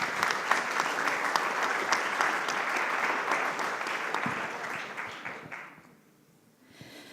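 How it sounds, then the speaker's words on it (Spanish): Enthusiastic clapping from an audience fills the room, steady for several seconds, then fades out near the end. "Un fuerte aplauso para Karen Bernedo, por favor."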